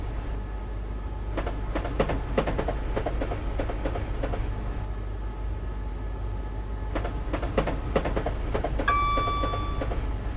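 A train in Dovetail's Train Simulator game runs steadily at high speed, above 90 mph, with a constant low rumble, repeated rail clicks and a few brief tonal chimes near the end.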